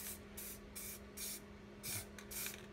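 White spray paint bursting from an aerosol can in short hissing puffs, about six separate sprays with brief gaps between them, close and fairly soft, over a low steady hum.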